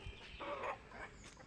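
Chickens kept at a rural Filipino home give a brief, faint cluck or two against a quiet background.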